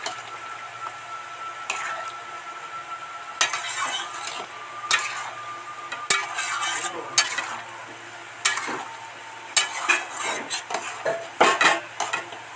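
Liquid goes into a simmering elephant foot yam curry with mustard paste, then a spoon scrapes and knocks against the pan in irregular bursts over a low sizzle. No voices are heard.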